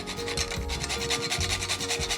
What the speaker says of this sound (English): I'm gonna grate in some fresh nutmeg